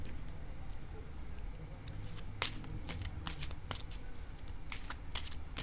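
Playing cards being shuffled and laid down during a game of patience, with a steady soft riffling texture and several sharp snaps as cards land, close and fairly quiet, with no talking.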